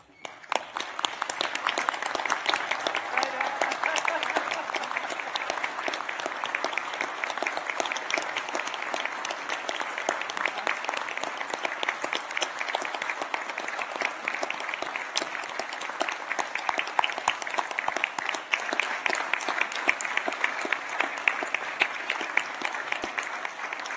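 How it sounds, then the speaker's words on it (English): Sustained, dense applause from a standing audience honouring graduates at the close of a University of Newcastle graduation ceremony in Australia, loud and steady throughout with no speech over it. "invite the Dias Party and our guests to stand and join me in applauding the wonderful achievement of our graduates"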